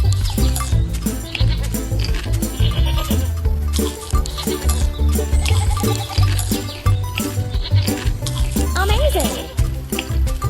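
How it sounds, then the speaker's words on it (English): Goats bleat repeatedly in a preschool farm animals game, their cartoonish cries overlapping cheerful background music and playful sound effects, loud and close, while a voice talks over the mix. "Goats want to graze on green grass."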